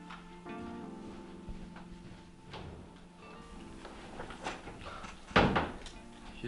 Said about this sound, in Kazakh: Есік жабық.